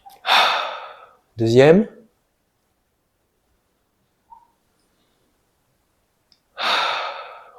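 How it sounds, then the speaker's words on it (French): Deep breaths during a breathing exercise: a long, airy inhalation, a short spoken word, a long silence, then another deep breath starting near the end, each close and clear. "s'il y a 2 respirations à faire côté droit, 2 respirations à faire côté gauche, tu fais tes 2 respirations"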